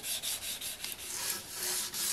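Sandpaper rubbed steadily back and forth across a freshly poured metal capstan casting, a close, continuous rasping scrape with rhythmic strokes and no talk.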